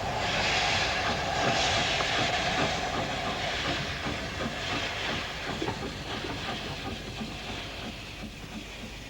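A GWR 1400 series steam locomotive works along a branch line with a steady hiss of steam and rhythmic chuffing over rolling train noise, fairly near and fading slightly toward the end.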